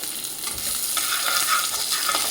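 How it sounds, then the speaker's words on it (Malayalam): Chopped ginger and green chillies sauté in a pan for an easy breakfast dish, giving a steady, fairly close sizzle with faint scrapes of stirring throughout and no talking. "ഇഞ്ചി പച്ചമുളക് അരിഞ്ഞിട്ടു രണ്ട് പച്ചമുളക് ഒരു കഷ്ണം ഇഞ്ചി അരിഞ്ഞിട്ടു അതൊന്ന് വഴറ്റുക"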